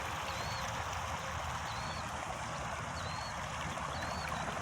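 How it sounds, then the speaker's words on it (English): Steady broadband rush of a small creek running outdoors near an abandoned amusement park, continuous and fairly close, with faint bird chirps above it. "We got running water."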